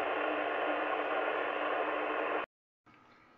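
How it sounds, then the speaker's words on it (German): A radio receiver fitted with a QRM eliminator gives a loud, steady hiss of static that abruptly cuts out, then returns much quieter a moment later. "Und wenn ich jetzt den ausschalte, habe ich nur noch Rauschen."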